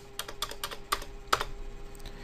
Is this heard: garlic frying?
no